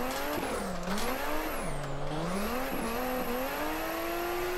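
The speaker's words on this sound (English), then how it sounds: "There is drifting happening." Tires squeal continuously as a Nissan Skyline R32 drifts sideways in the Assetto Corsa racing game, a steady high-pitched screech riding over a wavering engine drone that dips and climbs with throttle, loud and close, with no voices.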